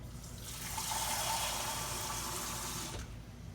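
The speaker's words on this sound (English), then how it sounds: "Now I'm gonna put 1 more cup of water in here." Water poured into a pot of jambalaya being cooked on the stove, a steady splashing, gurgling pour lasting about three seconds before stopping abruptly.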